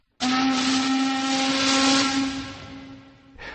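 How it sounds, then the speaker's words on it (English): A riverboat's steam whistle screeches loud and steady for over three seconds, a shrill sustained tone with strong overtones and airy hiss, cutting off abruptly. "The whistle screeched out noisily."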